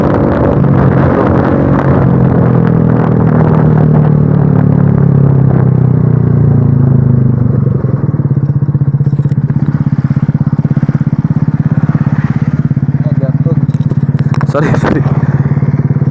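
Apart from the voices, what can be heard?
motorcycle with cheap aftermarket exhaust revving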